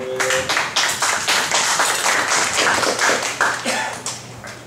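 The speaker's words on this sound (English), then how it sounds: "Let's give him a round of applause." A conference audience at a humanism gathering claps to welcome a speaker, a close, uneven burst of hand claps that thins out and fades toward the end.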